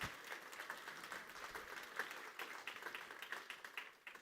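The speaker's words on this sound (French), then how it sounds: "Vous pouvez tous les applaudir" An audience claps through an opening ceremony, with steady dense applause that stays fairly quiet and distant, a faint voice now and then underneath.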